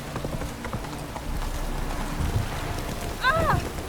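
Horse hooves clip-clop steadily in The Witcher 3: Wild Hunt, a rhythmic trotting patter over ambient game sound, with a brief voice near the end.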